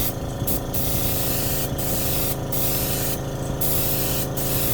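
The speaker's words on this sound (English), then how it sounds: "I'm using an Iwata Eclipse HPCS. This is a gun, and I'm using a California Air Tool air compressor." An Iwata Eclipse HPCS airbrush fed by a California Air Tool compressor sprays paint in short, close hissing bursts of varying length over a constant mechanical drone of the running compressor.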